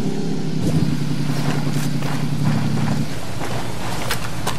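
A motorcycle engine in the video game Ghost Recon Wildlands: a loud, steady droning rumble with a humming tone that holds for a few seconds, then fades into a windy, rushing roar.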